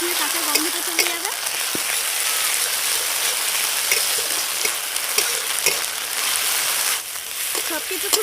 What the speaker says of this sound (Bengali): এবার আমি দিয়ে দেবো আদা রসুন বাটা, দিয়ে একটু ভেজে নেবো